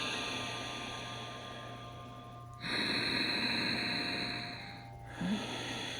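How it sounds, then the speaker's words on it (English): Slow ocean-like Ujjayi breaths during an Ashtanga yoga practice, a long soft exhale followed by a louder, rushing inhale and another breath starting, close and steady over a faint hum. "Listen to your Ujjayi."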